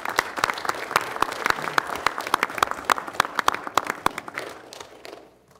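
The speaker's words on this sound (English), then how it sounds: "Let's give them a round of applause." Applause from the audience at a county board of commissioners meeting: dense, steady clapping from a roomful of people that tapers off and fades out near the end.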